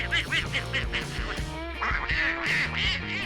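Cartoonish duckling quacks from an animal-hotel management video game, a rapid run of short bright calls bouncing over steady game music, loud and close with no talking.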